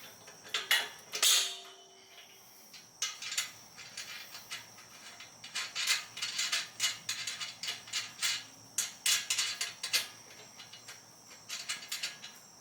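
Bolts being hand-tightened on a Remark axle-back muffler delete exhaust under a 2015-or-later Subaru WRX: rapid metallic ratcheting clicks in irregular bursts, close and moderately loud, with short pauses between runs.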